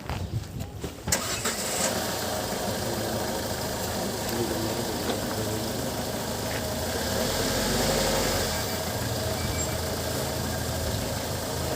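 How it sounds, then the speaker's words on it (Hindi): An ambulance engine in Billawar, Ramkot cranks and catches about a second in, then settles into a steady, loud running rumble with no talk over it. "थोड़ा सा गाड़ी को भी मूव कर।"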